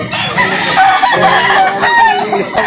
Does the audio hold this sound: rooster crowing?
yes